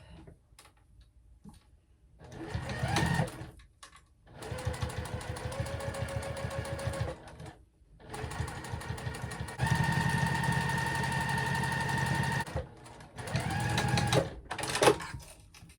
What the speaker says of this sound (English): Back stitch in the beginning and the end, and then again on the other side of that strap.